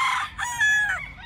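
A white claret gamefowl rooster crows once, close and clear, its drawn-out call rising and falling over about a second with no talk.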